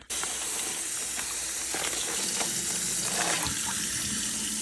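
Water from a kitchen tap runs steadily into a sink to rinse out a plastic bag once used for dehydrated green onions. The close, even hiss of the stream is broken by faint crinkles and splashes, with no one talking.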